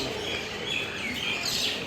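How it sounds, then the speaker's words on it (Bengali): Birds chirp faintly at Kalka railway station, their thin calls half-buried in a steady wash of open-air platform noise. "কি করছে পাখিগুলো?"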